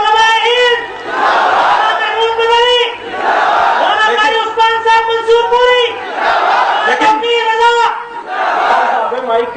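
A large crowd at a Jamiat Ulama-e-Hind annual gathering chants slogans in loud, rhythmic waves, voices rising together in repeated call-like bursts that swell and dip across the stretch.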